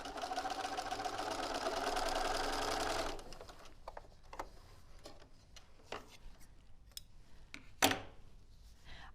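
A sewing machine runs steadily on a fabric strip for about three seconds, then stops, followed by quiet handling clicks and rustles.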